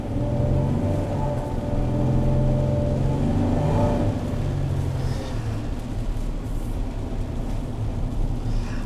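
A 2020 Chevrolet Silverado 1500 pickup with a V6 engine drones steadily while driving, a low engine hum with road noise holding at an even, fairly loud level throughout, no talking.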